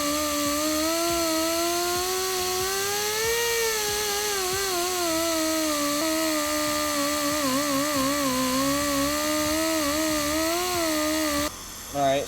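A rotary grinder ports a Yamaha YZ426F cylinder head with a continuous high-pitched whine that wavers as the bit moves around the casting. It stops abruptly just before the end.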